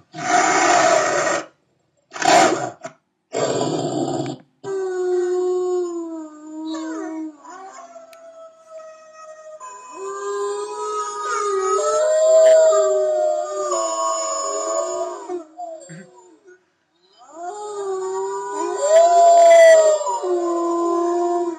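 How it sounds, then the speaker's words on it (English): A pack of dogs or wolves howls together in long, overlapping wavering tones that rise and fall, preceded by a few loud bursts, and briefly fading before the chorus resumes loudly. "a whole pack of them howling"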